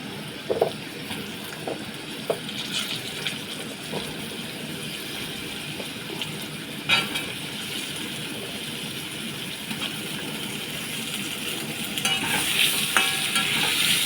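Potatoes and pumpkin frying in a pan while being stirred, a continuous sizzle broken by scattered spatula scrapes and clinks, becoming a little louder toward the end.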